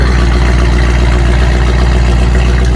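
The straight-piped V8 of a Dodge Challenger Scat Pack idles in a deep, heavy, loud, steady, throbbing drone, very close, with no talking.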